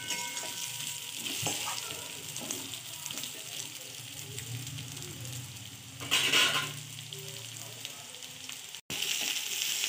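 Bottle gourd (dudhi) vadis frying in oil in a pan, a steady close sizzle with a louder bubbling surge partway through and a brief cut near the end, with no talking.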